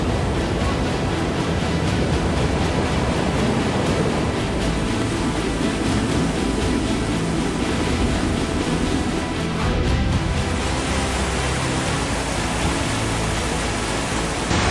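Heavy floodwater in monsoon rain rushes with a loud, continuous roar like a torrent, a dense unbroken wash of noise throughout.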